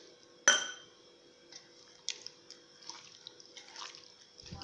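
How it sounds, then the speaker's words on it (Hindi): Water is poured into a bowl of pomfret fish coated in masala powder and salt, giving a sharp splash at the start and then soft trickles and faint clinks of the bowl at low level, with no talk. "थोड़ा सा पानी डाल लूँगी मैं"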